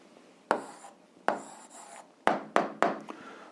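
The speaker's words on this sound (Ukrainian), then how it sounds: "записуємо відповідь, пишемо відповідь" A pen writes an answer by hand on paper in a few short, close scratchy strokes, each starting sharply and fading quickly, with brief pauses between them.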